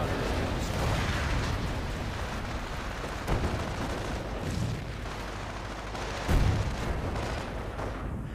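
In the video game Company of Heroes, booming artillery fire rumbles continuously in a dense barrage, with heavier blasts landing now and then, one especially loud near the end.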